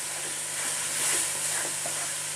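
Spices such as anardana and dried coriander sizzle steadily in a hot pan while stuffed karela filling is prepared, a continuous close frying hiss with slight swells, no voices.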